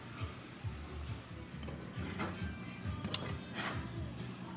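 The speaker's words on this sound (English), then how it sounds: "Just keep stirring it and let it sit until it is the way you like it" Garden vegetables being stirred as they fry in a pan, with repeated scraping and clinking of a utensil against the pan in an uneven rhythm and faint sizzle beneath, a voice talking quietly over it.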